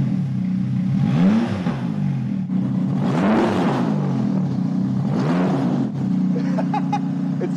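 A massive homemade snow blower's engine, driven through a homemade pulley, revs up three times in a row over a steady loud idle, each rise climbing and falling, with brief talk near the end.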